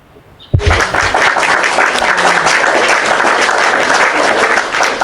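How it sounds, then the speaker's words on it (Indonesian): Loud, dense audience applause bursts in abruptly after a brief quiet moment and carries on steadily to the end, a full crowd clapping together without any talk over it. "Tepuk tangan buat Tuhannya Keresteng."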